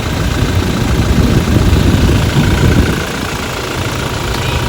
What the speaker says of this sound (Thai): เสียงเครื่องดี